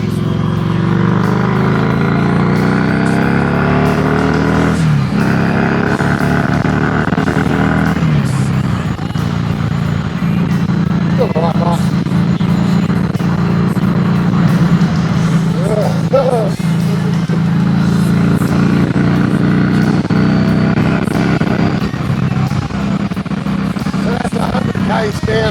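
A Harley-Davidson Sportster motorcycle is ridden on a freeway, its engine droning steadily and loudly under heavy wind rush, with a brief shift in pitch early on and faint voices now and then.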